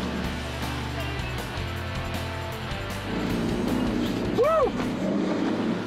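A Nissan Patrol 4x4 pushes through mud in Toolangi State Forest, its engine droning and then revving harder and louder toward the end, with a short excited shout from the driver.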